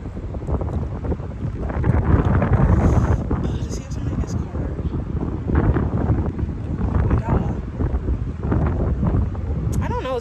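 Strong wind buffets the microphone with a continuous low rumbling roar, gusting louder at moments, with a voice faintly present beneath.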